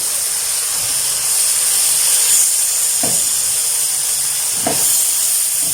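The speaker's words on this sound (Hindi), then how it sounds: "अभी हम एग डाल देते हैं।" Egg poured into a hot pan for a desi Chinese biryani, giving a steady bright sizzling hiss throughout, with two brief louder spits partway through.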